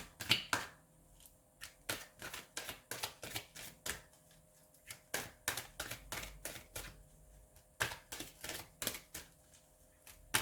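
Oracle cards are shuffled by hand in quick bursts of crisp riffling flicks, close and fairly quiet, with short gaps between rounds.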